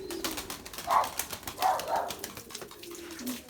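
A wetted pet bird recovering after a knock to the head gives a few soft, dove-like coos over a quiet indoor background, each call brief and separated by short pauses.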